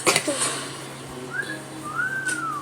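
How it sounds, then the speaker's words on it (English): A do-over whistle sounding as two rising-and-falling tonal whistles, the second longer and sweeping, fairly close over a light background murmur after a short clatter at the start. "It's the do-over whistle."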